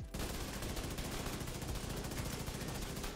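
Sustained rapid automatic assault rifle gunfire in the video game The Division 2, a dense rattling burst at 800 rounds per minute that continues loudly without pause for several seconds, with no voices.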